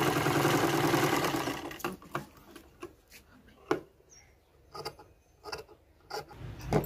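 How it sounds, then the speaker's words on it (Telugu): Sewing machine stitching blouse shoulder seams, a sustained whirring run at the start followed by short, separate bursts of stitching and clicks, fairly close and quiet. "ఇలా రెండు షోల్డర్ కూడా కుట్టుకోవాలన్నమాట."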